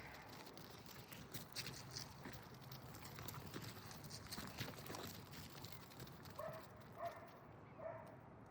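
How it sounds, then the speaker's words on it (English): A dog barks a few short times, faint and somewhat distant, near the end of an outdoor scene where playful goats clatter about on sticks and rocks under a steady background hiss. "And the dog barks and they're silent."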